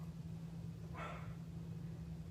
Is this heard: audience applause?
no